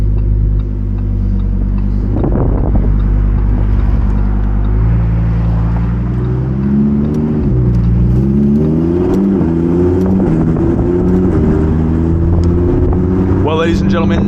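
A Lamborghini Huracan Evo Spyder's loud, throaty engine revs in steady rising and falling sweeps, the pitch stepping up and down as if shifting through gears.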